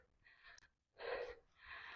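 Heavy, audible breaths from a person winded after climbing a hill on the way to a hilltop temple at Kondrangi Hills, Dindigul, with two or three strong gasping pulls in quick succession, close and fairly quiet, no talk.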